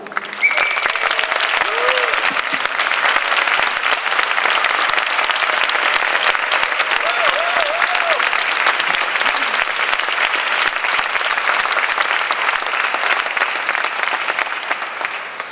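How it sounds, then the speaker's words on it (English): Conference audience in Vienna giving a warm round of applause, loud dense clapping sustained evenly for about fifteen seconds, with a few faint voices and whistles poking through. "So with no further ado, warm round of applause for Ulrike Guérot."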